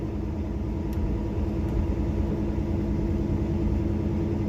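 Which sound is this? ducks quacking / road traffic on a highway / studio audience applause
road traffic on a highway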